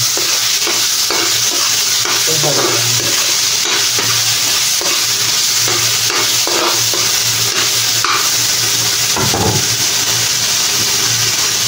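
Tomatoes sautéed in a frying pan, a loud steady sizzle with scraping stir strokes running throughout, close and continuous.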